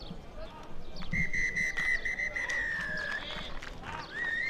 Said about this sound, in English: And that is the final whistle in the second semi-final of the Men's Open Cup competition